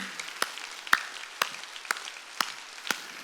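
A church congregation clapping during a Sunday worship service, with six sharp, evenly spaced claps about half a second apart over a soft background.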